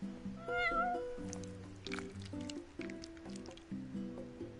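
A cat meows several times in Final Fantasy 15, the cries sitting over a gentle shop melody in the game's soft background music, with no talk.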